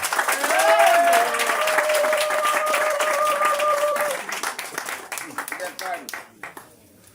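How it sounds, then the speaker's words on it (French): Audience applause for Paulette Missambo at a Gabonese political gathering, a loud, sustained burst of many hands clapping with voices and cheers mixed in, thinning into scattered claps toward the end. "je vous demande d'applaudir très fort"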